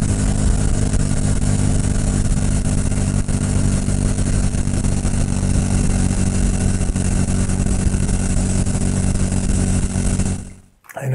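Motorcycle engine picked up by a new external microphone while riding, a loud continuous rumble that holds steady for about ten seconds before cutting off abruptly at the end.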